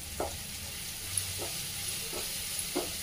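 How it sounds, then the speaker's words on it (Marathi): Cluster beans sautéed with coriander powder and red chilli powder in a pan give a steady soft sizzle, with four brief stirring scrapes spaced about half a second apart. "आणि आता आपण हे सगळं साहित्य छान परतून घेऊया।"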